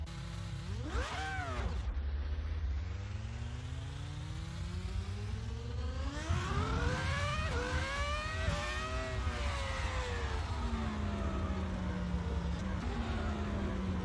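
Racing car engine in the Assetto Corsa driving simulator, a 2022 race car, revving and shifting through rising and falling gear sweeps, loud and continuous with no talk.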